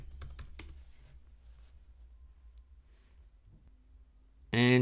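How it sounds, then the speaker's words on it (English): A quick run of close keystrokes on a laptop keyboard typing a password, a few sharp clicks at the start followed by near silence, then a loud burst of sound at the very end. "Type in my password."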